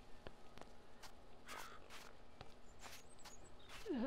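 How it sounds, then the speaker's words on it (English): Crows caw a few times in a quiet outdoor scene of the video game Sir, You Are Being Hunted, brief harsh calls at moderate distance over faint ambience, with a couple of soft footsteps. "Stupid birds probably gave me my position."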